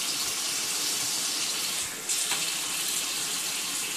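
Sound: water handled between hands to moisten hair

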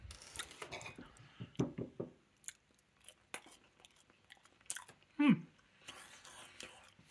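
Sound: chewing battered chicken with sweet and sour sauce

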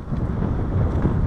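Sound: wind blowing into microphone

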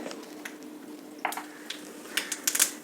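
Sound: mustard seeds sizzling in hot oil

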